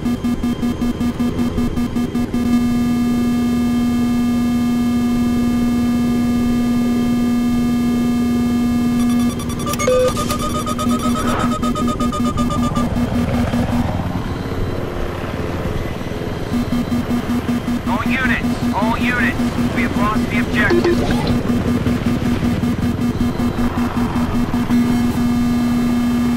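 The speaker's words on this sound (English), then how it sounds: "High-pitched beeping means incoming missile." Battlefield 3 missile lock warning: a high-pitched electronic beep repeats rapidly, then turns into a steady continuous tone, cutting out and returning over the rumble of a jet or helicopter engine.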